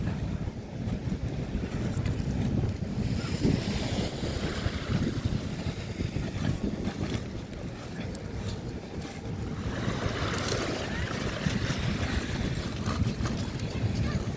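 Surf along the Manila Bay shoreline at Dolomite Beach, a steady broad wash of waves mixed with gusty wind buffeting the microphone, holding at an even level throughout with no clear individual breakers standing out.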